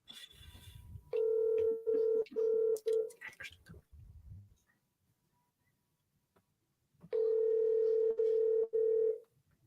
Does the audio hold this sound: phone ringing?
yes